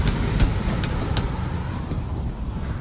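GWR steam locomotive 7903 hauling a train across a bridge near Cheltenham Racecourse, a steady broadband rumble and rattle with wind buffeting the microphone, fairly loud and continuous throughout.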